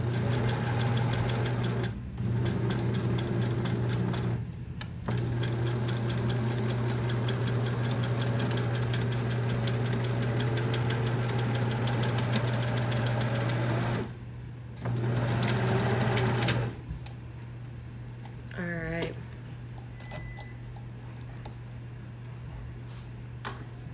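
A sewing machine runs in steady bursts while stitching a bikini top, its motor humming near and continuous for long stretches, with brief pauses and a louder stop-start near the end.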